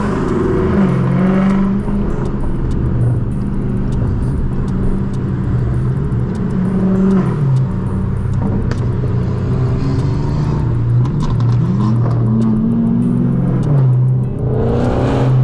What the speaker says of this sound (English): That boy is moving in that TRX, bro.